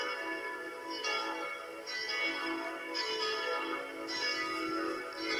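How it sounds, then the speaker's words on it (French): A church bell rings for the Angelus, struck about once a second in a steady rhythm with a rich, sustained ringing tone, clear and close with no talking. "c'est la cloche 4 qui sonne pour l'Angélus"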